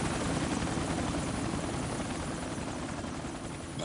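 A helicopter drones steadily in the Indiana Jones and the Infernal Machine video game, its rotor noise loud, close and constant from start to finish with no voices.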